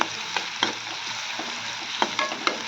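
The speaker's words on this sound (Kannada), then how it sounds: "ಉಳ್ಳಾಗಡ್ಡಿ ಜರ ಸ್ವಲ್ಪ ಕಲರ್ ಚೇಂಜ್ ಬರೋವರೆಗೂ ಫ್ರೈ ಮಾಡ್ಕೋಬೇಕ್ರಿ" Onions sizzle in oil in a pan for a village-style berki palya, a steady close frying hiss broken by a few soft stirring scrapes, with no talking.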